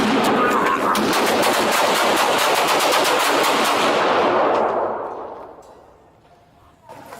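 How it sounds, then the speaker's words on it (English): A long rapid burst of gunfire from a police officer during a shooting in Seattle, dense repeated shots blasting for several seconds before dying away into quiet, with a faint knock at the end. "Shots fired, suspect down."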